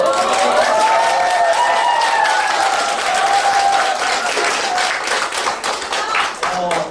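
An audience at a talk show claps in a sustained round of applause lasting several seconds, with a voice or cheer carrying over the clapping before it thins out at the end.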